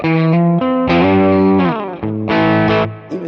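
Electric guitar with the tone control turned up rings out a short run of sustained, distorted notes and chords, warm and close with an effects-laden shimmer, played alone without talking.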